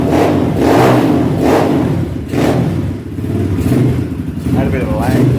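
Zongshen 250cc dirt bike engine, freshly rebuilt with its top end redone, revving in repeated surges that rise and fall several times, loud and close, with voices talking over it.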